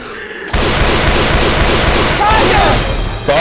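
Sustained gunfire in the zombie shooter Left 4 Dead 2, a dense, loud barrage of rapid shots running almost continuously after a brief quiet start, with faint voices underneath.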